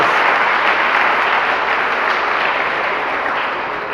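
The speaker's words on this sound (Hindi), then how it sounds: "तो एक बार और तालियां बजाइए।" Loud, dense applause from a workshop audience, continuous and even from start to finish, tapering slightly in the final moments.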